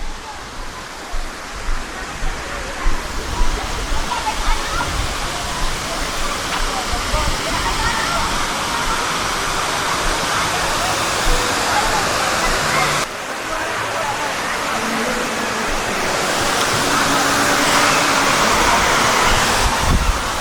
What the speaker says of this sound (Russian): Вот такой вот тут у нас водопад